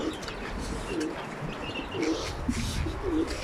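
Tumbler pigeons coo in soft repeated low phrases, roughly one per second, over steady outdoor background noise, with faint chirps above.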